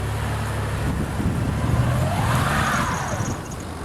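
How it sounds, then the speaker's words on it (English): A car tire spinning in deep snow during a blizzard, a continuous loud whirring engine and wheel roar with a rising and falling whine, heard close with wind noise over it. "Your tire is spinning!"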